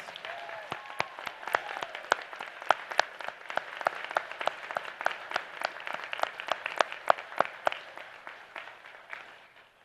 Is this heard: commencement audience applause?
yes